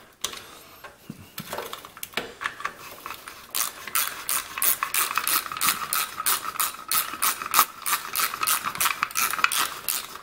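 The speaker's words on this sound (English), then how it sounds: "And then go back with your ratchet and tighten them up." Ratchet tightening the bolts on a Briggs & Stratton small engine, heard close as rapid, regular clicking strokes that pick up after a few seconds of scattered handling noise.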